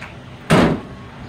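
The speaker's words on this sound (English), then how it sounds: "So, go ahead and close the door back." Door of a brand new Chevrolet C3500 truck shut once with a single firm slam, close and loud, followed by quiet.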